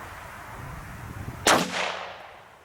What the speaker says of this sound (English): It definitely has more of a ringing thud to it from the Interceptor.